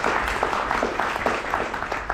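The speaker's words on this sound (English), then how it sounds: "A big round of applause for AKA Digital in organizing this" An audience applauds AKA Digital at a 2023 business talk, with a steady wash of clapping from many hands. It holds at an even level for about two seconds and nobody speaks over it.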